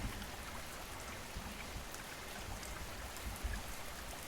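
Steady rain patters in a dense, even hiss, with a faint low rumble or two underneath and no voices.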